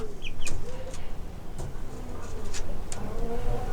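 A hen with young chicks clucks softly while the chicks chirp in short high peeps, close by, over a steady low background rumble, with no talk.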